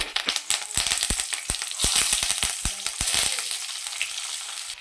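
Dried red chillies and curry leaves sizzle and crackle loudly in hot oil for bisi bele bath, a dense, continuous frying hiss with sharp pops throughout.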